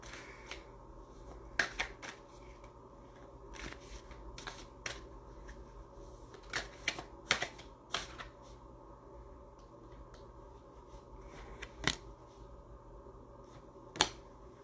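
Tarot cards being shuffled and drawn at a home reading, heard as quiet papery riffles and a scattered series of sharp card snaps and flicks over a steady low background hum, with no talking.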